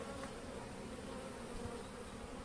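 Honeybees hum in a weak colony's hive during overwintering, a steady, dense, low buzz held evenly throughout, fairly quiet and with no voices.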